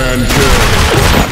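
Sustained automatic XM8 rifle fire in the game Blackshot, a loud, dense, unbroken burst of rapid shots throughout the short moment.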